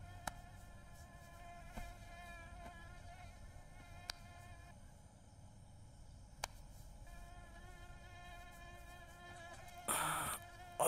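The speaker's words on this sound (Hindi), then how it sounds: "मच्छर कितने हैं यार यहाँ पे" Mosquitoes swarm with a steady, thin high whine that holds throughout, faint and continuous, with a few sharp clicks and a short louder burst near the end.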